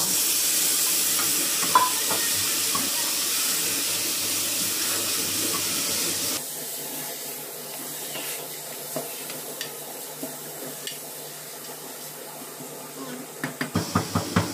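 Tomatoes for a South Indian lamb curry sizzle in a pan with a steady loud frying hiss, a few soft utensil scrapes scattered through, then a quick run of stirring clinks at the end.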